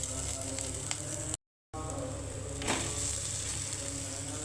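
Boiled semolina tipped into a hot pan with oil and salt, giving a steady low sizzle that swells briefly partway through, with a short gap of silence.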